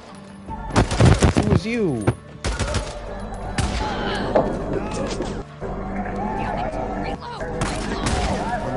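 Shotgun and rifle fire rings out in the Days Gone video game, several loud bursts and repeated blasts spread across the stretch, with a voice speaking over the shooting.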